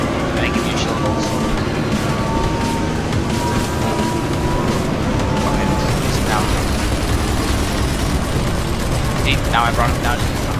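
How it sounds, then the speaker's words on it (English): Turret firing in the GRIP combat racing game, a dense, constant barrage of gunfire and mechanical clatter over roaring engine noise, loud and unbroken throughout, with voice chatter mixed in. "Someone go past me, then I'm gonna use the turret"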